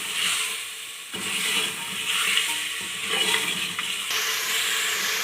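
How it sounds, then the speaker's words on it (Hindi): Beef being fried with spices for saag gosht, splashed with water as it cooks: a steady loud sizzle and hiss with stirring scrapes and bursts of spitting, continuous throughout with no talking. "पानी का छींटा लगाते जाएंगे और गोश्त को भूनेंगे"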